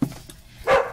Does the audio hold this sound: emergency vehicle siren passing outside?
no